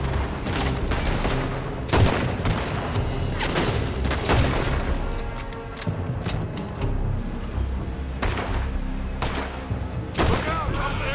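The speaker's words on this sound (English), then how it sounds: "They're shooting from that building." A Red Dead Redemption 2 shootout: scattered, loud gunshots and bursts ring out irregularly over a busy, noisy background, with voices occasionally speaking in between.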